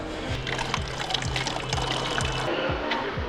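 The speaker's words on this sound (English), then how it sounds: "Water filling station." Water pours steadily from a tap at a trail water filling station near a mountain notch, a continuous close splashing trickle with faint background noise and no talk.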